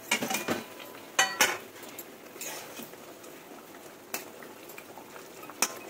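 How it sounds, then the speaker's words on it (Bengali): Banana flower fritters go into a pot of boiling water, heard as light clinks of metal utensils and brief splashes over a soft bubbling background, fairly quiet and close. "একটু করে জলটা ফুটে জাল উঠে গেছে, এবার কিন্তু মোচার এই বড়াগুলো এবার দিয়ে দেবো"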